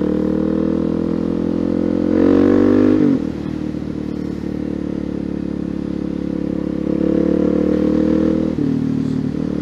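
A dirt bike engine runs nearby with a loud, steady, throbbing drone, its pitch shifting as the throttle rises and falls a few times.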